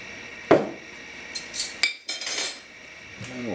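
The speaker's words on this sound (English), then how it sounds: "And we'll stir all this up" A spoon clinking against a pot while stirring creole shrimp ingredients, a few sharp metallic taps and scrapes spaced over a few seconds, close and fairly quiet.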